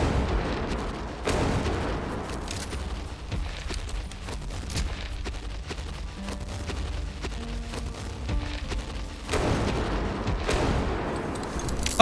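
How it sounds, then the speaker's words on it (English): Heavy rifle shots from a .700 Nitro Express in a prehistoric dinosaur-hunting video game, two big booming blasts several seconds apart over a rumbling, busy game soundscape. "these shots are hitting better than some of the other ones"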